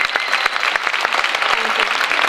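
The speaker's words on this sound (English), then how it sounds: "Please give him a big hand of applause." Audience applause at a talk on adverse reactions to Covid-19 vaccination, a dense, steady burst of clapping from a crowd, close and loud throughout.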